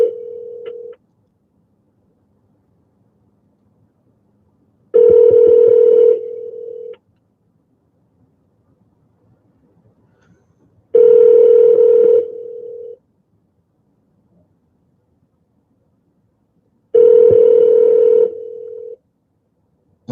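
A telephone line plays a loud, steady electronic tone in four evenly spaced bursts of about two seconds each, separated by silence, while a call waits to be answered.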